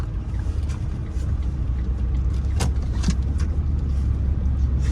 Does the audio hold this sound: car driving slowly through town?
yes